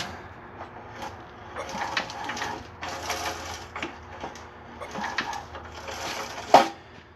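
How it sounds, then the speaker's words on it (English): A small engine on an old one-wheel tractor under repair, pulled over by hand in repeated strained bursts of mechanical clatter and rattling, with a brief sharp knock near the end. "Pull the motor over a little bit."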